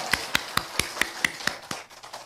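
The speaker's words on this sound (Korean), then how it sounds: "박수 한번" A church congregation claps in unison during a Korean sermon, with sharp, evenly spaced hand claps in a steady rhythm, roughly four per second, fading slightly toward the end.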